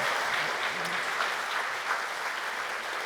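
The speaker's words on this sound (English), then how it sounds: "Everyone give David a big round of applause." Dense, sustained applause fills the room from an audience at the end of a medium's live reunion tour show in Brisbane, an even wash of many hands clapping without a break.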